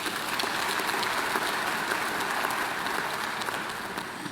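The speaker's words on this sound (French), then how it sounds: "Je voudrais que nous puissions les applaudir." A large audience applauds during a presidential state-of-the-nation address, a dense, sustained wash of clapping that stays loud and even throughout.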